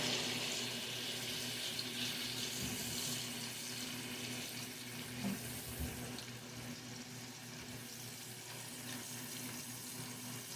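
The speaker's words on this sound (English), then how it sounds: "I'm going to wash my hands real quick" Water runs steadily from a kitchen tap as hands are washed in the sink, a continuous hiss that stays even and fairly close for the whole stretch, with no talk.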